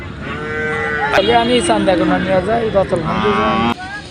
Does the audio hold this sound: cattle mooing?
yes